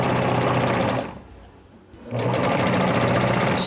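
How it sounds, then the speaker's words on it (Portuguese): A sewing machine runs a straight seam in two steady bursts of stitching, loud and close, with a quieter dip partway through when the motor slows before it picks up speed again. "e passa a costura reta."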